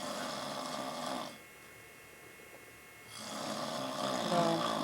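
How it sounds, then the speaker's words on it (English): A sleeping man snores in two loud, rough, breathy rasps separated by a quiet pause, heard close up in a backyard setting with nobody talking. "So, we thought we'd better have a picture to go along with the snore."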